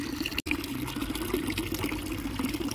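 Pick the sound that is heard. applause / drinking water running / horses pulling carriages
drinking water running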